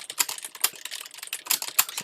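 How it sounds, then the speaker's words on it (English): Fast typing on a computer keyboard with a clacky, typewriter-like sound, a close, quick irregular stream of sharp key clicks with no talking. "if you can hear me typing, I can reassure you that I'm not typing on a manual typewriter, although my keyboard does sound a lot like one"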